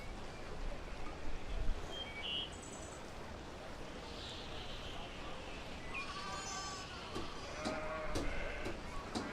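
Sheep in the village-building game Banished bleat a few times in short calls, faint against a soft ambient game backdrop of flowing water and birds, with no voice over them.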